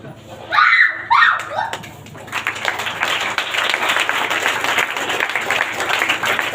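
A church congregation claps together during a Sunday worship service, steady dense applause building after a couple of loud shouted voices at the start and continuing evenly to the end.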